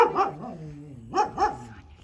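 A small dog barks close by in two quick pairs of sharp, high yips with a short whine between them, with no talking over it.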